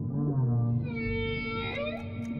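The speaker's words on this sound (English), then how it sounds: "Whale." Whale call in a children's phonics lesson, a single drawn-out tonal moan that bends in pitch and rises toward the end, heard alone and close.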